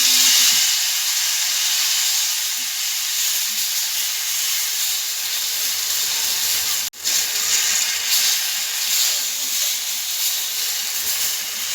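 Oil sizzles on a very hot tawa as a rice flour ghavan cooks, a loud, steady hiss that runs unbroken apart from one brief drop midway.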